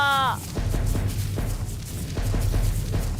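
Taiko drum beats played in the ARK video game sound out in a steady rhythmic pattern of deep, booming hits, following a short vocal sound at the start.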